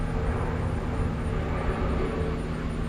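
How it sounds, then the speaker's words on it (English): An airplane passes overhead near an airport, giving a continuous low, rumbling roar that holds steady at moderate loudness, with no talk. "And yeah, there's an airplane."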